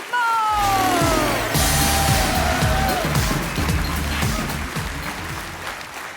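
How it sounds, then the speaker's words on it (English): A live science-show audience claps in a loud, dense burst of applause that gradually thins and fades, with a voice speaking over the start and a whistling tone gliding downward. "Keep that applause going for Mr."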